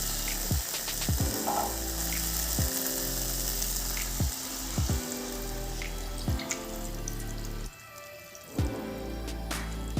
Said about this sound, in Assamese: আলুখিনি আধা ভজা হৈছে।